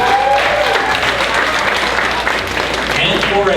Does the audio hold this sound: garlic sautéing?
no